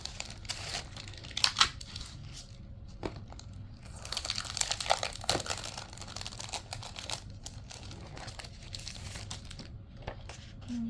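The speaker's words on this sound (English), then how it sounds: "Try and make this crinkle as little as possible." A plastic wrapper around cupcake candles crinkles and rustles up close in irregular bursts, louder handling flurries between quieter stretches, with no one speaking.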